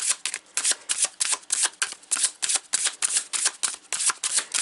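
A deck of oracle cards shuffled by hand in quick, rhythmic riffles, close and crisp, repeating steadily about three times per second with no talk.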